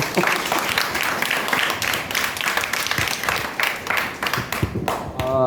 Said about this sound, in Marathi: खरंच त्याच्यासाठी टाळ्या वाजवा